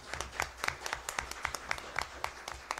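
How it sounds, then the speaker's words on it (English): Applause rises at a school district governing board meeting, a modest group clapping in quick, uneven bursts, fairly quiet and steady in a room. "Let's give him a round of applause"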